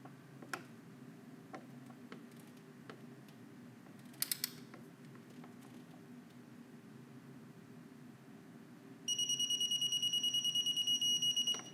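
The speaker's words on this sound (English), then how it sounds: "I have an electric torque wrench. So this one doesn't really have any clicks, it just beeps at you" An electric torque wrench set to 20 Nm on a Honda S2000 valve adjustment makes a few faint ratcheting clicks, then near the end emits a rapid, sharp series of loud electronic beeps as the target torque is reached.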